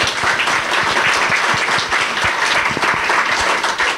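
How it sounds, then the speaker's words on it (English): Audience applause at a documentary Q&A session, dense steady clapping from a crowd filling the whole stretch without letup. "So I'd like to make a round of applause for you all"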